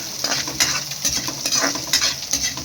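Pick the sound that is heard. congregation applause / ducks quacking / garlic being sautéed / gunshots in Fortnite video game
garlic being sautéed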